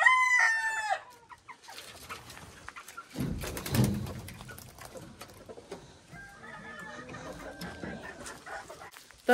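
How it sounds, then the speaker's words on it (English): Show chickens cluck and squawk nearby, with a rooster's crow at the start followed by scattered, irregular clucking calls. "Those are Kayson's show chickens now"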